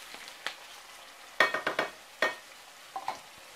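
A spatula scrapes and knocks in a skillet as julienned carrot is stirred for Uzbek plov. A soft, steady frying sizzle runs underneath several sharp, irregular clacks, with no talking.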